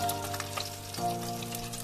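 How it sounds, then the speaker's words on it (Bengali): Fish frying in oil gives a quieter, even sizzle with faint crackles, heard close and alone with no voices for about two seconds. "দেখো কত সুন্দরভাবে ভাজা হচ্ছে"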